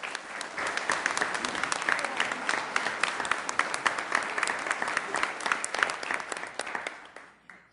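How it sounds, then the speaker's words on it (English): An audience at a city council meeting breaks into sustained applause, dense clapping for several seconds that fades out at the end, with no talk over it. "Let's give them a round of applause, please."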